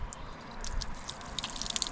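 Water gushes and splashes from an outdoor tap just turned on, a soft continuous rush with scattered bright drips and spatters.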